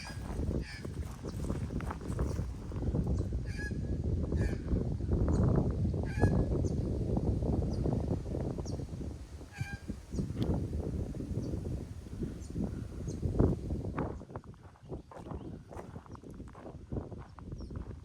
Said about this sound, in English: As you would expect for a wetlands, I suppose there's a lot of bird life around.